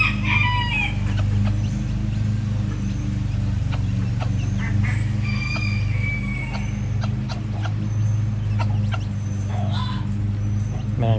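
Hens with their chicks cluck and peep near a continuous low background hum, with scattered short calls and chirps throughout.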